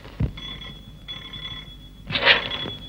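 An old-fashioned telephone bell rings in a home in a vintage Hindi film, sounding in two loud metallic bursts separated by a short pause.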